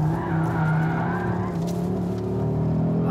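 An Audi RS 3 on semi-slick tyres drifting, a loud, sustained engine roar with tyre squeal and skidding noise running throughout, close and without talk.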